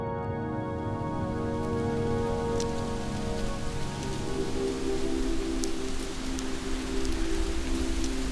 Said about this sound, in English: Rainfall.